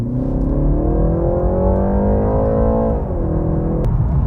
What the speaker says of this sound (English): Listen to the engine noise.